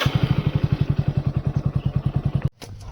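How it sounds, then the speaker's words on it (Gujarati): A motorcycle engine runs close by with a fast, even thumping pulse for over two seconds, then cuts off abruptly to a quieter background. "ચલો આપણે ક્યાંક જઈએ બાઈક લઈને"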